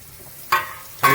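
Asafoetida and curry leaves hit hot oil in a pan, giving two sudden bursts of loud close sizzling about half a second apart over a quiet background.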